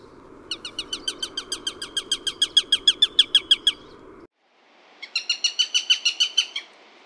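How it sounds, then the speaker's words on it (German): A Eurasian sparrowhawk's fast, high-pitched cackling call repeats in a steady run of about fifteen notes, pauses, then starts again with a shorter series. "Sperber gackern dabei recht schnell und hoch."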